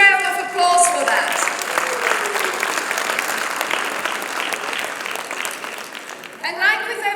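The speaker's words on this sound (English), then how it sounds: "give yourselves a huge round of applause for that" An audience at a speech event applauds loudly for several seconds and fades slightly. Voices are heard at the start and again briefly near the end.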